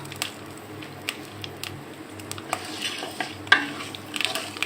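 Whole spices sizzle and crackle in hot oil in a pan: bay leaf, cinnamon, black pepper, cloves, black and green cardamom and mace, with soft steady frying under occasional sharp stirring scrapes and clinks, close and fairly quiet.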